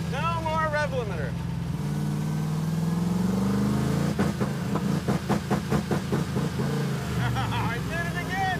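A Hemi V8 in an AMC Gremlin race car, its rev limiter removed, runs loud and close, with a droning rise and a rapid stuttering burst of engine pulses midway, with people talking over it.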